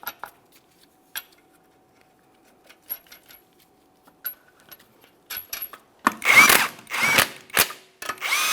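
An impact tool runs down 21mm wheel lug nuts on a 2008-2017 Mitsubishi Lancer 2.4L, first with light metallic clicks and taps, then loud close whirring, rattling bursts in quick succession toward the end.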